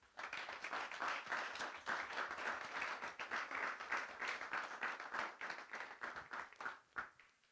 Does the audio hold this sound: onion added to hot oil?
no